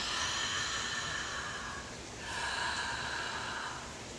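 Ujjayi yoga breathing done with the mouth open: two long, airy breaths in succession, a rushing throaty hiss like ocean surf, close and alone.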